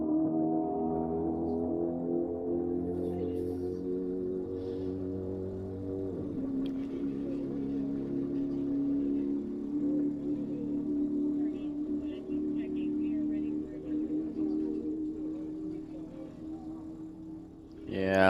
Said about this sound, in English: That is a D engine, blown gas rear modified roadster.